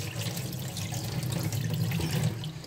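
Tap water runs steadily into a bowl of rice being rinsed, a continuous splashing hiss with no talk.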